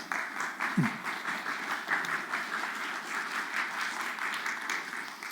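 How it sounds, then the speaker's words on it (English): An audience gives a round of steady applause, a moderately soft, even patter of many hands clapping that carries on for several seconds. "you can give her a round of applause"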